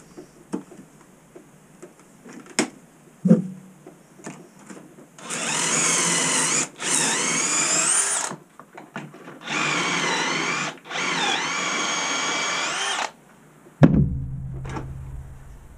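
A power drill whirs in several bursts of a few seconds each while drilling pocket holes in wood for a farmhouse end table, separated by quiet gaps with small knocks and clicks of woodworking.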